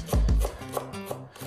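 A few knife chops through parsley on a cutting board, two heavy thuds followed by lighter, evenly spaced taps, close by.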